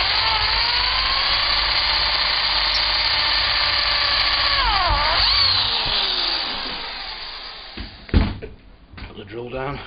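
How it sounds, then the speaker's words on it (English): A power drill bores dowel holes through a guide jig in organ woodwork, a loud continuous whine close by that dips in pitch as it bites, then winds down and gives way to clunks of the tool and jig being handled. "Pick up the drill, down the guide"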